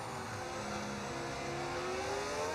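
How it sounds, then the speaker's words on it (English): A modded V10 Formula 1 car engine in the F1 25 racing game, a steady, loud, high whine that rises slightly in pitch while holding speed, alone with no talk. "What engine sound is that? It is a V10."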